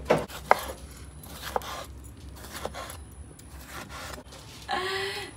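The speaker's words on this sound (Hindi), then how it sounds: "एक अदद सब्ज मिर्च भी काट लेते हैं।" A knife chops green chili on a board in a series of spaced, sharp close taps, with a brief rubbing scrape near the end.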